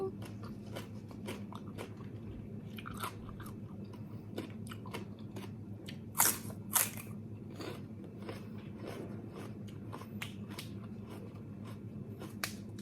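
Someone eats a spicy pounded squid salad up close, with soft wet chewing and occasional sharper crunches over a steady low background hum, including a couple of louder bites midway.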